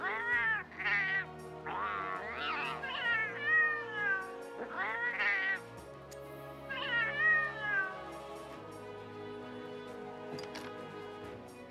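A Palico-style cat from Monster Hunter World mews repeatedly, high and close, in several drawn-out, sliding meows with short pauses between them, set against a soft game ambience and low music.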